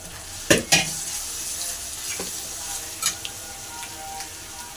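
Ginger garlic paste with salt and crushed cloves fries in a pan for biryani, a steady sizzle broken by a few sharp scrapes and clinks of a stirring spoon against the pan.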